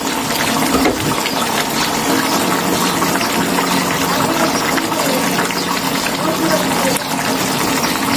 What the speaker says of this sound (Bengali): গ্রেভিটা শুকানোর জন্য আমি আরেকটু ফুটতে দেবো।